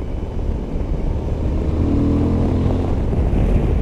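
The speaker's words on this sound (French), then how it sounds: "À la relance, le moteur il va bien." Suzuki V-Strom 1050 DE motorcycle, 2023 model with a 1050 engine, pulling out of a bend after the throttle was shut in fourth gear, engine note rising steadily under continuous wind rush, no talk.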